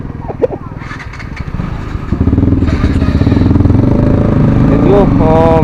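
A TVS Apache RTR 310 motorcycle engine starts and revs up, its loud, close exhaust note rising into a steady throaty drone with faint clatter early on.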